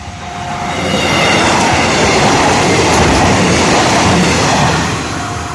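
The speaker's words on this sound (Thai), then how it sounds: "ไปแล้วก็ขบวนเจ็ดห้านะครับผม" Express train 75, the Nakhi, rushes past the Nong Khon Kwang level crossing close by. A loud, sustained roar of wheels and carriages swells and holds for several seconds, then begins to fade, with no talking.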